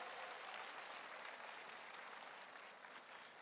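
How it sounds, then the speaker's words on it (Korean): An indoor audience at a skincare product presentation claps in a steady burst of applause, dense and even throughout, fading slightly near the end. "박수 한번 주세요"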